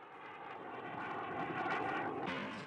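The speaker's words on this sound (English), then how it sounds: "President Ahmadinejad recently presented his first drone." Engine drone of an Iranian military drone aircraft, a steady continuous roar that swells slightly toward the middle and holds at moderate loudness, with no voices over it.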